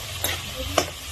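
Sweet potato being stirred in a frying pan with a few short scraping knocks of a utensil against the pan over a soft, steady sizzle, close and fairly quiet, no talking.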